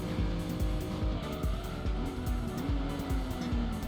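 Racing game car engine from Gran Turismo 2 droning loud and steady with rising pitch, repeated low thumps and a drawn-out tire squeal as the car slides into a drift mid-race.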